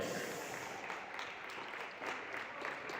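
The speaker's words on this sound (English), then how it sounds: "make some noise, give a big applause for both teams" Audience applauding both teams at a women's doubles semi-final of a pickleball championship, a steady wash of clapping from a crowd at moderate distance, sustained for the whole stretch without talk.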